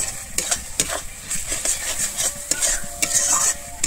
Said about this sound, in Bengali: গরম মশলাটা দিয়ে আমি আবারও খুব ভালোভাবে এখানে মিশিয়ে নেব।